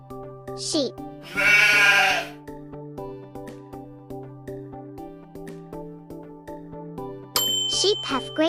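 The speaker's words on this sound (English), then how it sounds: "Sheep." Sheep bleat in a few loud, wavering cries, set against a steady melodic chiming music bed with bell-like tinkles, and a second short bleat follows near the end.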